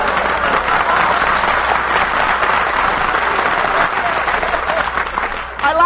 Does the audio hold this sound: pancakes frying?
no